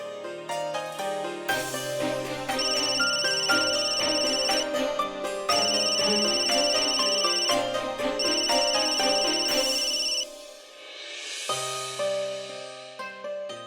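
A musical phone ringtone plays loudly and continuously, a repeating melodic pattern with bright tones that pauses briefly before starting again.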